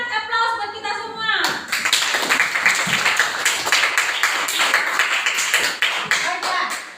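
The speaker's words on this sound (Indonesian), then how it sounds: "Kita berikan aplaus buat kita semua." A classroom full of students breaks into lively applause for the student groups, the dense clapping starting abruptly after a short spoken line and continuing steadily for several seconds before tapering off.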